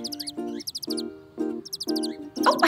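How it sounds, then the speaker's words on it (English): Several birds chirp and tweet in bright, repeated bursts over about three seconds, with a steady tonal hum running beneath the calls. "Those are birds."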